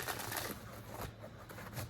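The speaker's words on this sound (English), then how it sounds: "let's do a nice shuffle for you" Soft, rapid riffling of tarot cards being shuffled by hand, quiet and close, with brief flutters and taps repeating for a couple of seconds; no talking.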